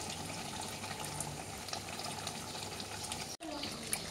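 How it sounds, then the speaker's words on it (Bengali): Tea water poured into a cooking pot of mutton with papaya and yogurt, a continuous close gushing splash that runs steadily for about four seconds. "এবার আমি এখন দেখো কি দিচ্ছি, চায়ের জল।"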